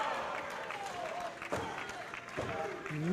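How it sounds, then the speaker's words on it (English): A pro wrestling crowd reacts to a moonsault, with scattered applause and cheering at moderate distance underneath a commentator talking. "The crowd as surprised and impressed as I am here, Joel."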